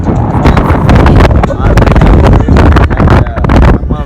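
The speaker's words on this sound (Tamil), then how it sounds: "பாமன் பாலத்தில் சரியான காற்று மச்சான்." Strong wind gusting across Pamban Bridge at Rameswaram, a loud, continuous roar buffeting the microphone throughout, with someone talking over it.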